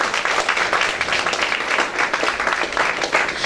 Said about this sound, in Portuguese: Vamos receber o servo do Senhor, queridos, com as palmas para Jesus.